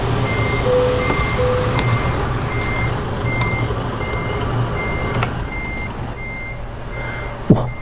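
Repeated evenly spaced reversing beeps from a truck backing up, steady and fairly close over a low engine rumble, with a short hiss near the end.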